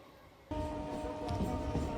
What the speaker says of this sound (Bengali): আমাদের ট্রেনটি এই মুহূর্তে শেওড়াফুলি জংশনে প্রবেশ করছে।